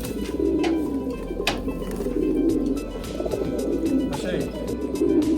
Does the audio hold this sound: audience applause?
no